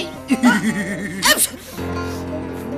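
A sharp, loud sneeze bursts out after a run of wavering, whimpering vocal sounds from a character in a Turkish comedy series, then gives way to a low steady hum.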